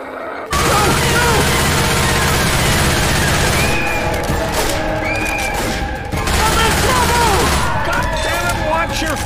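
Gunfire in the video game Left 4 Dead, dense and loud, a near-continuous close fusillade of shots and booms running throughout with little pause.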